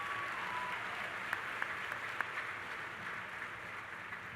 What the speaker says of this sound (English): you can give her a round of applause